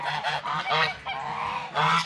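A farmyard chicken escaping its pen gives a quick series of loud, nasal honking squawks close by, in three or four bursts with no talking.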